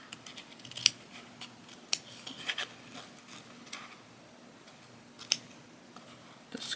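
Scissors snip through cork fabric along a marked line, a string of close, crisp cuts at uneven intervals over a faint steady hum.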